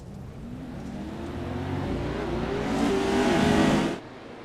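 Pro-4 off-road race trucks run at Lucas Oil Wheatland Raceway's off-road circuit, a steady engine roar that builds and revs higher over several seconds before cutting off abruptly near the end.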